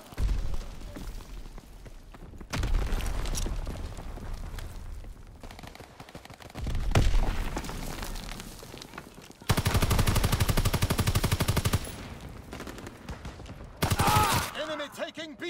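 Call of Duty WWII multiplayer battle with loud bursts of automatic gunfire in several sustained volleys, separated by brief quieter gaps, plus scattered single shots and some in-game voice chatter.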